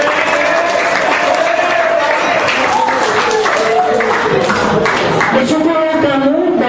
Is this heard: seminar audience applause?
yes